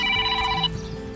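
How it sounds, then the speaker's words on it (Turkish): A mobile phone rings outdoors on a mountain trek, a short burst of bright, steady electronic tones that cuts off partway through, with faint background noise after. "Telefonum çalıyor."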